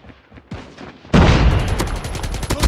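Gunfire bursts out in Call of Duty: Mobile: a loud, sudden volley of rapid shots lands after a quieter lead-in, then echoes and crackles for about a second and a half.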